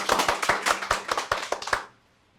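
Audience at a Sundanese stand-up comedy podcast taping in Cirebon claps hands in a quick burst of about a dozen sharp, close claps, then stops abruptly into near silence.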